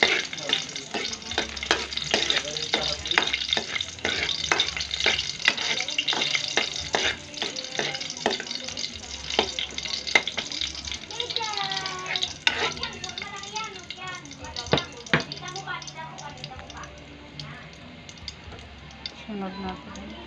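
Food sautés in a pan with a continuous sizzle, broken by repeated scraping and clatter from a spatula stirring, and a voice talks now and then over the cooking.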